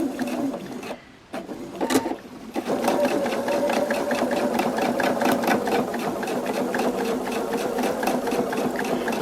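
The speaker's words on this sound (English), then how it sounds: "now I will stitch her, and now I will make my back stitch in the piece" A sewing machine back stitches fabric pattern pieces at regular stitch length, starting after a brief pause and then running as a fast, even needle chatter that stays close and steady.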